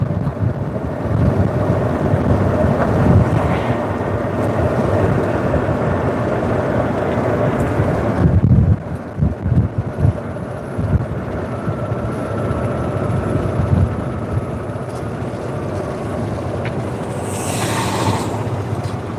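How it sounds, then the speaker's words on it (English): Strong gusts buffet a microphone outdoors on a road shared with cars, a heavy low rumbling roar that persists throughout, briefly dropping and sputtering midway before swelling again. "Let me know if you can hear the wind."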